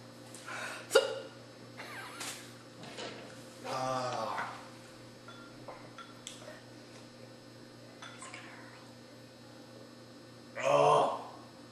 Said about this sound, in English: it just gave me the hiccups.